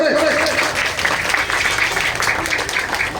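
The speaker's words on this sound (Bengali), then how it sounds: "একটা করতালি জোরে" An audience at a drawing competition prize-giving ceremony claps briefly and loudly, a burst of applause that tapers off over a few seconds.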